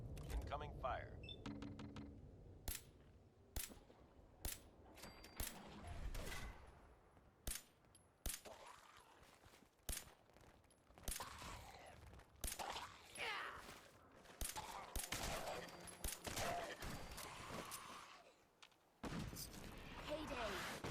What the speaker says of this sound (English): Take cover. Incoming fire.